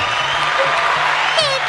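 Studio crowd applause and cheering on a food-focused podcast, a steady broadband wash of clapping that continues throughout with faint whoops over it.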